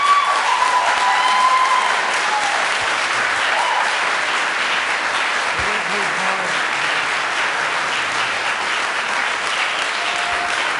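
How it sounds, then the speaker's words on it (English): Sustained applause from an audience at a Blount County, Tennessee county commission meeting, steady and dense clapping filling the room at a constant level for about eleven seconds. "Applause will be accepted."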